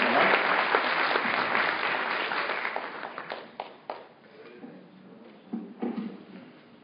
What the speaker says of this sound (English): Give them a round of applause this morning.